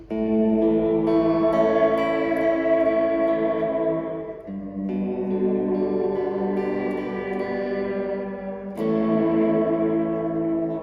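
A Fender Reflecting Pool pedal adds reverb and delay to sustained guitar chords, with rich echoing tails and swelling ambience across three strummed passages, loud and alone.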